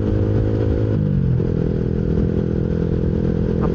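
A bored-up Yamaha Jupiter MX 155 motorcycle engine screams loud and close on a dyno, holding high revs steadily with a shift in pitch partway through.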